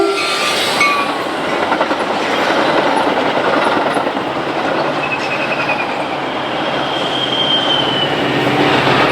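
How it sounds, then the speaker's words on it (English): An inbound reverse commuter train heading into LaGrange on a BNSF line rumbles past loud and close, wheels clattering and squealing over the rails in a steady roar, with no talking. "another inbound reverse commuter heads into LaGrange behind cab"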